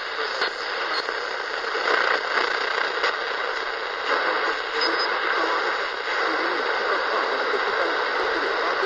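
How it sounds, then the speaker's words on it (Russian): A Polish longwave radio station comes through a receiver, heard as a steady broadcast veiled in hiss and crackling static throughout. "Вот еще раз, это польское радио."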